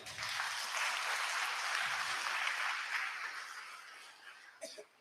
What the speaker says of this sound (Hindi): पवित्र त्रित्व को तालियों के साथ धन्यवाद दें।